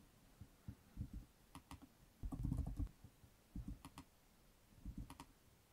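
Computer keyboard typing while entering a command in Microsoft Teams: quiet bursts of quick key clicks in uneven clusters separated by short pauses, close and alone.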